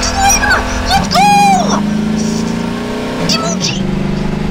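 A car engine revving in a video game, a steady mid-pitched drone with rising whines, heard beneath excited talking.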